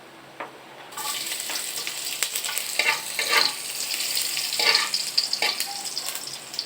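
Sautéing for a sauced fried tilapia dish with egg, in reused frying oil: a steady sizzle bursts up loudly after a quiet start, with scraping stir strokes and crackling pops running alone throughout.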